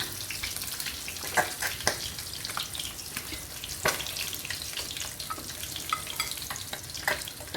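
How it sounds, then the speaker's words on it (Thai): Fish fries in a pan until golden, giving a steady, close crackling sizzle with scattered sharper pops and spits throughout and no talking. "ก็ทอดอีกด้านหนึ่งให้สุกเหลืองเหมือนกันนะคะคุณผู้ชม"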